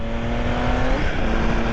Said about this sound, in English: And there is that glorious sound of this triple engine.